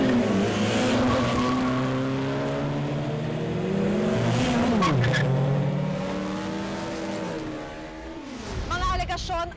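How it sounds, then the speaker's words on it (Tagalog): Cars in an illegal street race rev and accelerate, with engine pitches sweeping up and down and the odd tire squeal. The engines sound loud and close, and a voice speaks over the roar. "paglaganap ng iligal na karera ng mga sasakyan"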